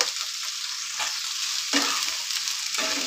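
Scallion stalks frying in hot oil with a steady, close sizzle, broken by a few stirring scrapes and brief louder bursts as the greens are moved around the pan.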